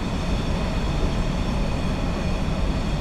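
Class 66 diesel freight locomotive running in Train Simulator 2015 on a UK line near Carluke Station, a loud continuous engine and rail rumble with broadband wheel noise, steady and without voices.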